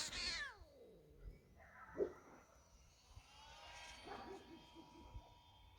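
A house cat meows behind the speaker while a neighbour's cat answers, a few short plaintive calls at moderate distance over quiet room tone during a night flight session with a small UMX Twin Otter model plane.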